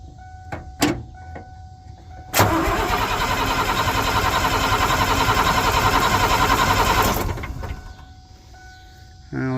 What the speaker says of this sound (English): I'm gonna just jump the solenoid over here and see what we can maybe get to happen.